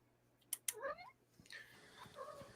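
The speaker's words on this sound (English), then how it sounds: "Kind of sounded like my cat" A house cat meows close by in a couple of short, faint calls, with a person's voice speaking quietly around them.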